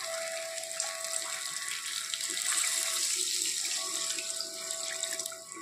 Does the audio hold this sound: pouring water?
yes